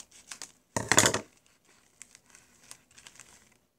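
Plastic packaging from a Wish order is cut open with scissors and crinkled: a loud burst of crackling near the start, then scattered soft rustles and small clicks, close and without talk.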